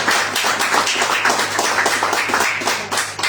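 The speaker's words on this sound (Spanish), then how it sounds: "Dale un fuerte aplauso al Señor." A church congregation claps loudly for the Lord during a sermon, a close, energetic burst of hand clapping that continues steadily without talk.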